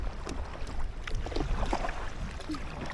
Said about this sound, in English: So we're actually paddling up towards Brigg in that direction.